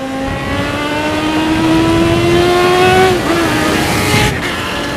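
A sportbike engine revs with a slipping clutch: a loud, continuous, close engine note whose pitch climbs steadily, dips, then holds over road and wind roar.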